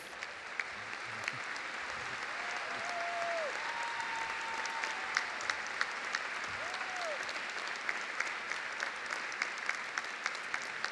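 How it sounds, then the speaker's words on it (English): A high school commencement audience at Ann Arbor Pioneer High School applauding the school staff, steady sustained clapping from a large crowd in a big hall, with a few faint tones and no talk. "give them a quick round of applause"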